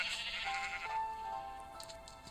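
Sheep bleating in the Minecraft video game, a single drawn-out wavering bleat heard close and clear with nothing else over it.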